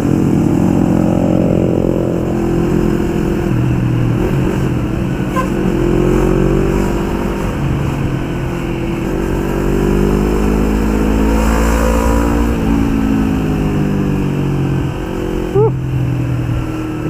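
A 250 cc two-cylinder Yamaha MT-25 motorcycle from 2016 accelerates with the throttle held fully open, its engine note rising steadily and loud up close, with wind noise underneath.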